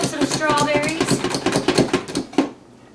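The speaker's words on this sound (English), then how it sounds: "But so just chop up some strawberries." Strawberries chopped with a Pampered Chef food chopper, a fast series of close, hard rhythmic plunging thumps that stops abruptly near the end, with a voice talking over the first part.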